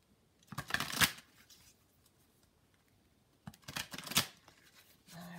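A deck of energy oracle cards is shuffled in two separate close bursts of quick papery riffling and snapping, with quiet pauses between and no talk over them.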